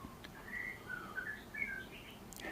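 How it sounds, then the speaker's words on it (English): A bird calling outdoors, a series of short whistled chirps and tweets at moderate distance, rising and falling over a soft background hiss, with no talking. "It's a nice bird call."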